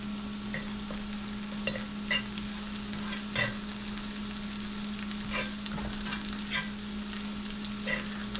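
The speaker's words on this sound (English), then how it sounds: "another tablespoon of butter. Get that all melted up." Butter melts in a pan with shrimp, garlic and green onions for oyster sauce butter noodles, giving a steady soft sizzle. Light utensil taps and scrapes recur throughout, close and moderate in level.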